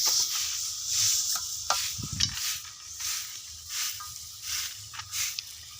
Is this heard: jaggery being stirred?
yes